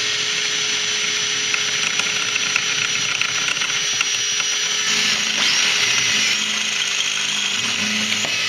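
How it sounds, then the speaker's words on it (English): A power drill with a 3/16 bit whines steadily at close range while drilling out a rivet on a Skinz Pro front bumper, its pitch shifting slightly as it bites through the metal, with no talking. "So we're going to drill this out,"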